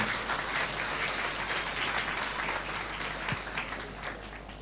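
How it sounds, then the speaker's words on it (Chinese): Audience applause at an indoor Q&A session with health speaker Robert Slovak, steady sustained clapping from a crowd at moderate level for several seconds without speech. "再一次给 Mr. Robert 一个热烈掌声"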